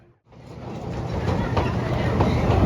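A Big Bad Wolf roller coaster train at Busch Gardens runs during testing, a steady rumbling roar with faint clacking that builds and holds, heard from nearby.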